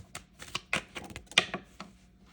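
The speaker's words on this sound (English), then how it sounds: "you heard that I was shuffling it" Crisp, irregular papery snaps and flicks of cards being shuffled up close, a handful of sharp bursts separated by brief gaps.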